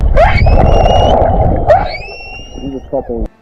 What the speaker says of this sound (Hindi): 2 व्हेल्स गाना गाने लगी, और वो भी खुशी में। सुनिए।